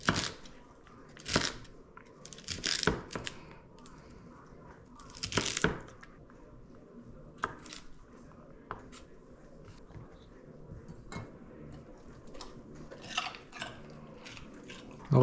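A dog crunches celery in loud, irregular bursts of snapping and chewing, close by, with faint kitchen noise between bites.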